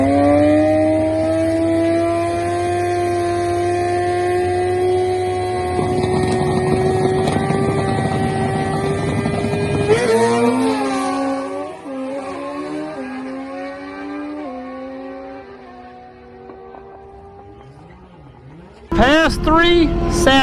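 A 2020 Suzuki GSX-R 1000 runs at the drag strip: a loud, steady engine drone climbs and shifts pitch through a series of revs, eases off, then ends in a sudden, loud, close burst of power.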